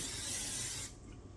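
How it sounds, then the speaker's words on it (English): Butter-flavored cooking spray hisses from an aerosol can into a muffin tin in one steady close burst of just under a second, then cuts off to quiet room tone. "I'm going to give it a spray with some butter flavored cooking spray."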